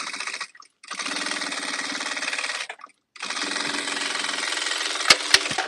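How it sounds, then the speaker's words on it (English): A sewing machine top stitches a tote bag in fast mechanical bursts, running about half a second, pausing, then running two longer stretches, with a couple of sharp clicks near the end. "I'll top stitch both of them at the same time"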